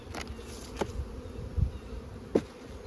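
Honey bees buzzing around a hive during a check after formic acid treatment, a continuous droning hum with a few close passes and soft knocks, fairly quiet and without speech.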